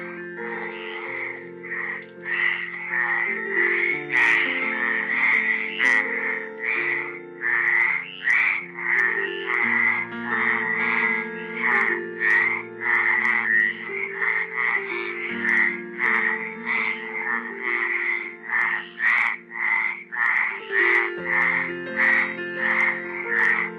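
Frogs croak loudly and continuously in a dense chorus, with rapid pulsing calls overlapping throughout and no other sounds.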